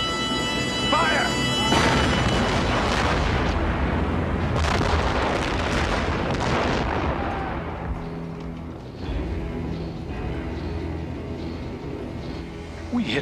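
The port guns of an ironclad warship fire a broadside in an 1991 film, a loud sustained roar of booming blasts that slowly fades, with voices partly heard through it.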